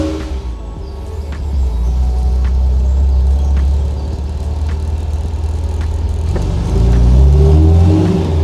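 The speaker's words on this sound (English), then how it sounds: "Flip on the throttle, she's off choke now. Sounds very nice, sounds like a stainless exhaust system." A 1971 MGB Roadster with a stainless exhaust, its engine running close by and revving cleanly in repeated rises, a loud throaty drone that swells and settles with no voices over it.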